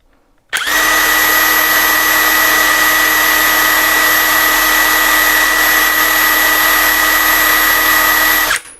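A KAMOLEE DTW700 cordless impact wrench spins freely at constant loosening speed, a loud steady whine that begins abruptly, holds an even pitch for about eight seconds, then cuts off cleanly.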